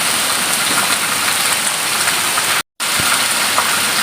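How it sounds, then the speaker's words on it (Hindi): Heavy rain falls on a village, a loud, dense, unbroken hiss of drops on surfaces nearby, briefly cut by a split-second gap of silence, with no voices. "ये देखें, बहुत ज़्यादा यहाँ बारिश है और बहुत प्यारा मौसम है।"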